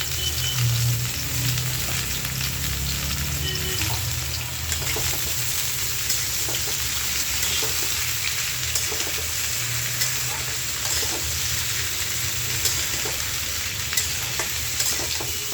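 Beans, potato and eggplant fry together in a pan, giving a loud, continuous sizzle with occasional scraping stirs and no talk.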